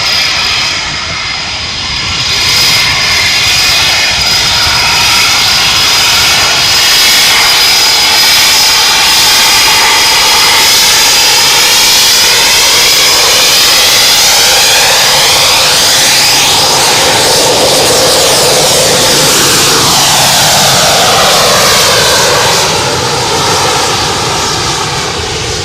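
Loud, sustained roar of an RAF Eurofighter Typhoon display jet at Coningsby, close and continuous for the whole stretch, swelling and shifting in pitch as it passes with a rushing blast of air.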